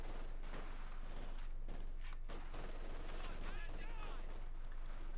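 Light machine gun fire in the Company of Heroes 2 strategy game: dense, overlapping bursts of battle gunfire with scattered explosions, all under a continuous din of combat sounds.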